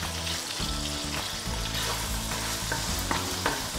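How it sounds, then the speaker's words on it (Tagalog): A frying pan of food with a crumbled half Knorr cube is stirred steadily, with a spatula scraping and clanking against the pan over a constant loud sizzle, close by and with no voices. "halo-haluin lang ng mabuti"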